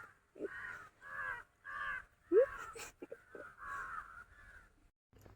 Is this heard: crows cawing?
yes